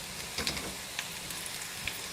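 Garlic sautés in oil for a pepper gravy, giving a soft, steady hiss scattered with small, sharp crackling pops.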